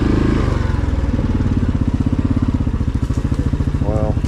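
A 2020 Yamaha Grizzly 700 ATV engine chugs steadily while being ridden through wooded trails, a loud, pulsing rhythm that runs throughout with a brief faint whistle-like tone near the end.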